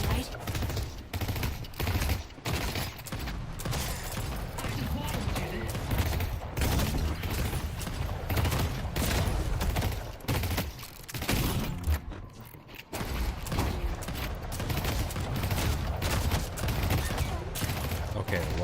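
Sustained rapid gunfire in the video game Deadlock, dense overlapping bursts and automatic volleys that barely let up, with a couple of short gaps, loud and close throughout.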